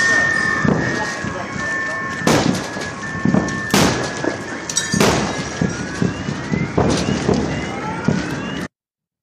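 The Chelyabinsk meteor's explosions come as several sharp, loud booms spaced a second or so apart, with smaller cracks between them and a continuous car-alarm-like tone running underneath before the sound abruptly cuts off.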